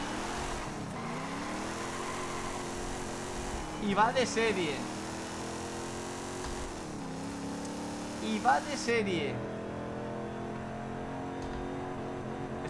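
An old V8 Hemi in a Dodge Dart roars and revs in Forza Horizon 5, engine note climbing in two long sweeping pulls with brief shifts, while someone talks over it.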